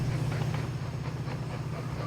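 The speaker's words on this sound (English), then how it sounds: "Oh, look at that little steam train going that way." A little steam train passes in the Mashinky video game, a brief, steady, low rumble with a faint hiss throughout.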